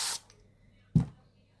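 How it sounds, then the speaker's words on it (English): Spray bottle misting water onto watercolour paper: two quick spritzes, a soft hiss at the start and a sharper, louder burst about a second later, with near silence between them. "So for my clouds, I'm going to spray especially the top area of the sky."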